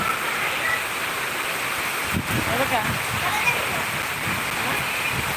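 Very heavy rain pours down in a cyclone, a dense steady roar of water with splashing, as a person speaks briefly over it.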